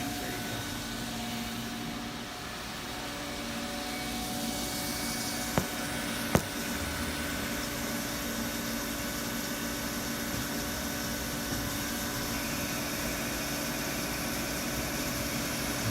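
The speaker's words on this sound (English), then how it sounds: "I believe it just did a thread roll, 1/4 28." A Star SR 32J CNC Swiss lathe runs with a steady machine hum and airy whir while thread rolling a 1/4-28 thread, punctuated by a couple of sharp clicks.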